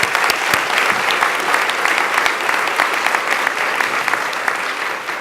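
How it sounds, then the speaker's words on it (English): A healthcare event audience applauding, a full, loud and even burst of many people clapping that sustains without a break. "I think she deserves a special round of applause."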